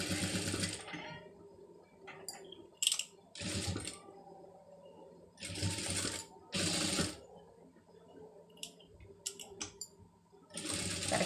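A sewing machine stitches a lace design in short, loud, rattling bursts of a second or so, separated by quiet pauses and a few small clicks from the mechanism, up close.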